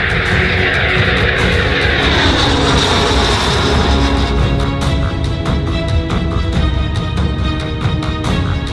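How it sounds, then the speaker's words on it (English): The Baykar Kizilelma jet drone roars steadily and loudly through its first test flight, a broad jet rush with a shifting whine as it passes, with no talk over it. "the successful first test flight for the highly ambitious Kizilelma drone"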